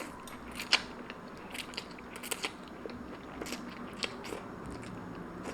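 Close-up mukbang chewing of shirataki noodles, with soft wet bites and occasional sharper clicks and smacks repeating irregularly at low volume.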